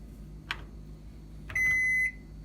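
A Panasonic countertop microwave oven gives a single steady electronic button beep lasting about half a second, clear and close, after a couple of soft clicks from pressing the keypad.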